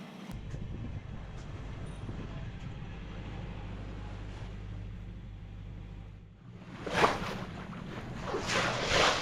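A sailboat motors under engine at sea into a light headwind, with a steady low engine drone and rumble throughout, then a burst of hissing water and wind noise near the end.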